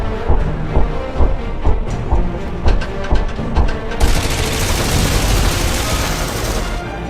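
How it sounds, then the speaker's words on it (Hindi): A 12.7 mm machine gun mounted on a tank fires loud, rapid bursts of gunfire in close succession, rattling and echoing up close with no voices. "ये गन 1 मिनट में 800 गोलियां फायर करती है।"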